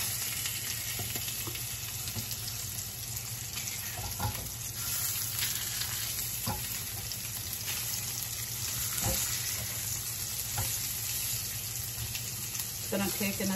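Thin rainbow trout fillets pan-sear in a frying pan with a constant hissing sizzle, punctuated by occasional soft knocks and clicks as the fish is handled and flipped.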